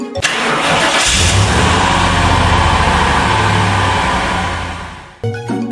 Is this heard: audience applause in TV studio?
no